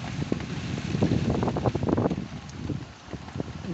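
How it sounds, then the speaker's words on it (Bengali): Storm wind from Cyclone Yaas gusts in a dense, roaring wash close to the microphone, with rain mixed in and buffeting that swells and eases without a break for several seconds. "খুবই ঝড় হচ্ছে, দেখাই যাচ্ছে"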